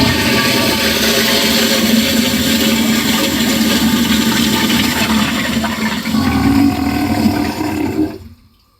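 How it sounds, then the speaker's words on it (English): A toilet flushes in one loud, sustained rush of water that roars steadily for about eight seconds, then cuts off abruptly into silence. "Now comes the super flush."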